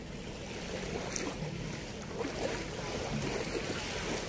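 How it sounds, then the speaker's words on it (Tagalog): Sea waves behind hotels at Subic seaport wash and rumble steadily with gusty wind noise, a continuous low outdoor roar by the water. "Likod pala ng hotel ay dagat."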